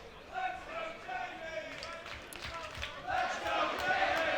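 A wrestling crowd chants and cheers for Jamie Hayter during a 1PW match against Session Moth Martina, a rising, rhythmic roar of many voices filling the arena, with a commentator talking over it.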